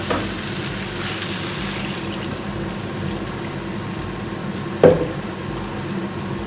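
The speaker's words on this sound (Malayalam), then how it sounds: "ഇനി ഇതിലോട്ട് നമ്മളിപ്പം ജാറ് കഴുകിയ കുറച്ച് വെള്ളം ഒഴിച്ചു കൊടുക്കേ" Rinse water from the grinder jar is poured into masala frying in a pan with turmeric, bringing a steady soft sizzle and bubbling, close and fairly quiet, with one brief sharp clink partway through.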